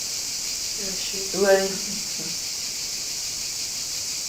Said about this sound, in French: On entend des cigales